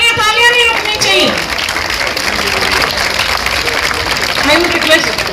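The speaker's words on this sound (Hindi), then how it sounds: "एक बार जोरदार तालियां नहीं रुकनी चाहिए" Loud audience applause erupts at a live stage event, a dense wash of many clapping hands with a voice calling over it at the start and end.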